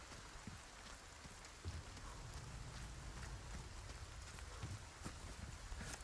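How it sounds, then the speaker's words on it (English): Steady rain in the game Resident Evil 4 Remake patters densely on surfaces with scattered sharper drops, continuous and fairly soft, with no voices. "Raining now."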